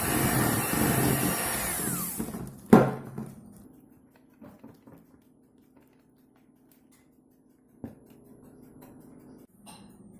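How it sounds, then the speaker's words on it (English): An electric blender whirs loudly through cupcake batter for about two seconds, then stops abruptly, followed by faint kitchen clatter and a few soft knocks in a quiet room. "run the blender."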